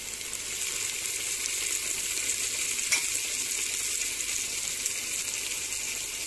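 Sliced onions with ginger garlic paste frying in oil in a home kitchen pan for a Tamil nonbu kanji, a continuous close, even sizzle with faint crackles and a brief stir click, no voices.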